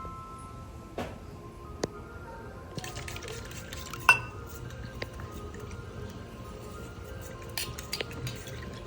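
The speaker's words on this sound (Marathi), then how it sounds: "आता हे कॉर्नफ्लॉवरमध्ये थोडं पाणी घालून मिक्स करू" Water poured into cornflour and stirred in a bowl while frying aloo mutter tikki, with soft liquid sloshing, a few sharp clinks of a spoon against the dish and a louder knock near the middle, all at close range with no talk.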